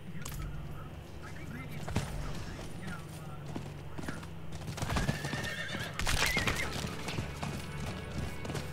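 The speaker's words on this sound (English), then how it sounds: "They definitely made the horse a lot better. It's a lot faster." A video game horse neighs and its hooves clop along steadily, with game-style ambience and a person talking over it.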